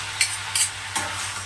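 Chow manchurian is stirred and mixed in a pan, with a few brisk scraping strokes over a low steady hum and light sizzle, close and fairly quiet, and no talk.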